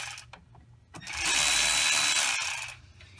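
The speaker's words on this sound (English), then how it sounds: "8mm, loosen these clamps." An 8mm socket turning to loosen hose clamps on a 2007 Chevy 2500 HD during water pump work, giving a close, steady mechanical buzzing whir of a powered ratchet that runs for about a second and a half, framed by quieter clicking.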